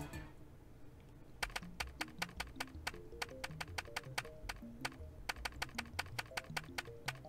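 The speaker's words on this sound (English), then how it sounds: "I'm assuming this is us typing on the computer" Rapid keyboard typing from the Steins;Gate video game, meant as keys struck on an X68000 computer: a steady run of crisp, close clicks beginning after a quiet second, with soft background music underneath.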